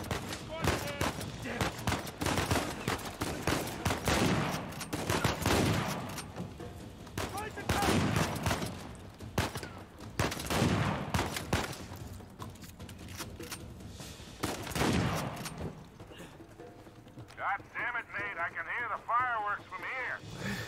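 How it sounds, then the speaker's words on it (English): Gunfire and explosions in the video game Uncharted 4, with dense bursts of shots and blasts throughout, a voice talking over the action, and a fading, quieter stretch near the end. "There's a lot of exploding shit out here."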